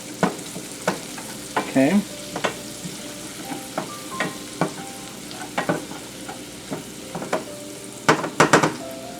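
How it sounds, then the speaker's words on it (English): Shallots render in a pan over medium-low heat, giving a steady soft sizzle broken by repeated stirring scrapes and clinks. A voice says a single short word. "we're just going to render the shallot down until it's almost translucent"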